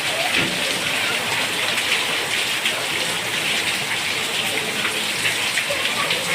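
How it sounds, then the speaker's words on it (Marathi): Steady, dense rain pours down continuously, a loud broadband hiss of drops hitting surfaces with no pauses. "जोराचा पाऊस चालू आहे"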